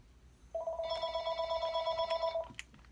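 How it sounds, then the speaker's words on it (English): A telephone rings during a happy-mail unboxing at home: one sustained electronic tone with layered harmonics lasting about two seconds, fairly close and clear, with a few small handling clicks around it and no talk. "there goes the phone"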